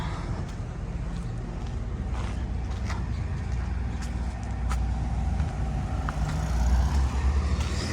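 A car rolls past on a downtown Statesville street, a steady low rumble that swells and grows nearer toward the end, heard alone without talk.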